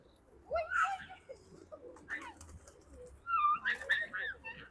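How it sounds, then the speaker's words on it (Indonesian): Many birds, likely pigeons or doves, gathered on a city street in Almaty, giving a few short calls and flutters against light outdoor background noise. "Wah, di jalan banyak banget sih burungnya"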